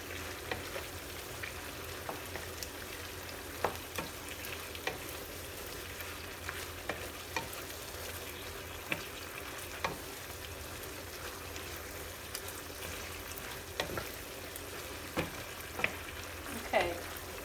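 Chicken and rice stir-fried with a tablespoon of tomato ketchup, giving a steady close sizzle and crackle with scattered scraping taps of a utensil stirring through the pan, no talking.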